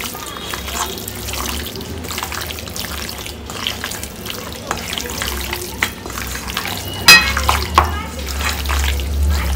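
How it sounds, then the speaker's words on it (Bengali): Mutton being mixed with spices by hand makes wet, irregular squelching and slapping sounds close by. The sounds are intermittent and soft over a low background hum, and a few brief sharper splats stand out. "মাটন বা চিকেন মাখার যে একটা সুন্দর মানে প্যাচ প্যাচানি আওয়াজ"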